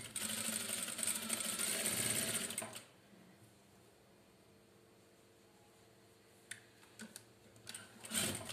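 A sewing machine stitches pyjama fabric in a rapid steady whir for about three seconds. A quiet pause with faint clicks follows, then the machine starts again briefly at the end.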